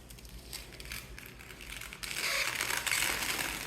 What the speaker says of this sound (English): I'm going to peel the plastic off here.